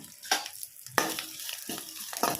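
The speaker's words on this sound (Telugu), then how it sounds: "ఇప్పుడు కరివేపాకు వేసుకోవాలండి. హాఫ్ టీ స్పూన్ పసుపు అండి." Curry leaves and turmeric hit hot tempering oil for dahi vada, giving sharp close bursts of crackling sizzle with stirring in between.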